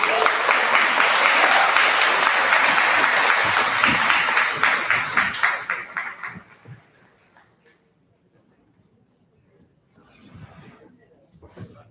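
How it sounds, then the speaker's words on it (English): An audience at a county candidate forum in Lac La Biche gives the candidates a round of applause: dense clapping that fades out after about six seconds, then a quiet stretch before a few faint sounds and a voice near the end. "Can we give one more round of applause for our candidates?"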